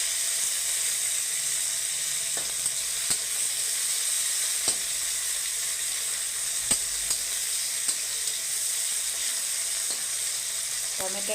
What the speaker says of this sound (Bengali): লঙ্কাটা একটু আগেই ফোড়ন দিচ্ছি, তাহলে একটা সুন্দর গন্ধ ছাড়বে।